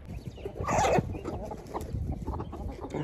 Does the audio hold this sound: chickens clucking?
yes